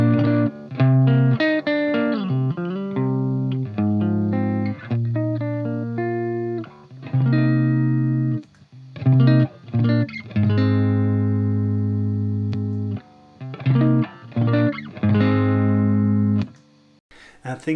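Electric guitar through an Orange Micro Dark amp boosted by an Aquarian Tumnus pedal, a loud distorted riff of chords and single-note runs with sustained ringing notes and brief stops, played close.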